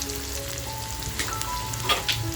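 Garlic sizzling in hot oil in a pan, a steady soft crackle with a few small pops, no voices.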